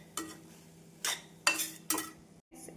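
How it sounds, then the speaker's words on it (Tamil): Rice being stirred into tomato masala in a pan over a medium flame, four distinct scraping strokes of a spoon against the metal with a faint sizzle beneath, close and alone with no voices. "சாதம் சேர்த்து மீடியம் ஃப்ளேமில் ஒரு நிமிடம் நன்றாக கிளற வேண்டும்"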